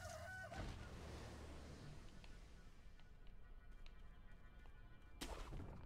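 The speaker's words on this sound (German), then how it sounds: "Da nochmal ein Huhn." A chicken clucks softly in the video game Sekiro, heard faintly and at a distance. Game ambience sits behind it.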